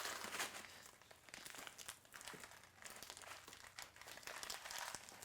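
Plastic packaging crinkles and crackles in close, continuous handling as it is worked open while setting up a low-tech planted aquarium, soft overall with dense irregular rustling bursts and no talk.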